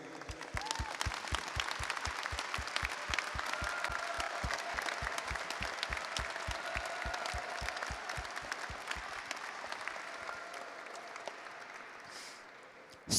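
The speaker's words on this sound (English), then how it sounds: "Students, please stand and give a round of applause to show your appreciation to your families." A large high school graduation audience applauds steadily for about twelve seconds, with a rhythmic pulse of clapping beneath the dense wash that slowly fades out.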